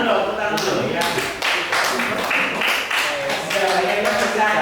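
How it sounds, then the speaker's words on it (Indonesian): A group of students and staff at a school gathering applaud together, a dense run of close hand claps that stops and restarts in several bursts, with voices talking over parts of it. "Tepuk tangan dulu, tepuk tangan dulu ya."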